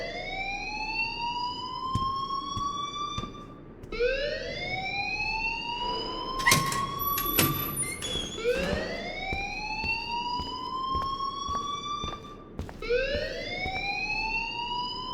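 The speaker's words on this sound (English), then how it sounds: "please turn off that alarm since that's your job" An alarm in the Life is Strange video game sounds continuously, with rising wailing tones repeating every few seconds. Sharp metallic clanks and bell-like hits break in midway, and no one speaks.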